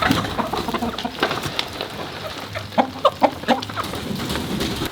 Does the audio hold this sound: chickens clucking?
yes